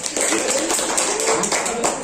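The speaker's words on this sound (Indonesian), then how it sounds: "Tepuk tangan untuk kita semua" A classroom of students claps together in a brief, dense burst of applause, steady and fairly close, with no talking over it.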